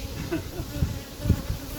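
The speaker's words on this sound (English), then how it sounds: "all of these bees will be going in over there" Honeybees buzzing around an apiary hive, a steady near swarm drone with a few louder swells as individual bees pass close, no voices.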